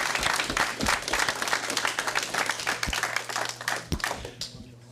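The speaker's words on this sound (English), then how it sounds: "And we can applaud on that one." Sustained applause from a city council meeting room after a unanimous vote, dense clapping that carries steadily for several seconds before thinning out slightly at the end.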